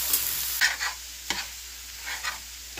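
Seafood rice with shrimp and imitation crab meat being stirred in a pan, soft scraping strokes and light sizzling in a few brief bursts, quiet and close with no talking.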